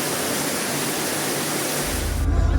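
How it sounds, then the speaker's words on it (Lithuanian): Rain falls steadily somewhere in West Africa as the wet season begins, a dense, even hiss throughout that gives way to a deeper low rumble near the end, with no voices. "o pas mus lietus prasidėjo pagaliau"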